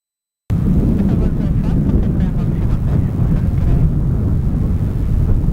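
A jet airliner rolls for takeoff on runway 27 at Melbourne Airport, a loud continuous engine roar that starts abruptly and holds steady, mixed with wind buffeting on the microphone.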